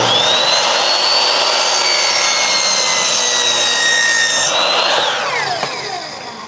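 A power saw cuts a bevel into a board of reclaimed wood, a loud, steady whine with a rasping edge running for about five seconds before the blade spins down near the end.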